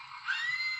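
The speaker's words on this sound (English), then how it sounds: "the sound effect that I'm going to be talking about today is yet another scream" A scream sound effect from a sound-effects CD: one short, shrill, sustained cry that swells slightly and holds steady for under a second, loud and alone.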